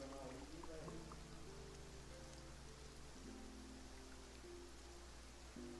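Steady rain falls in Fontaine in Genshin Impact, a constant hiss of drops spread evenly through the scene, with soft music tones and faint game sounds layered on top.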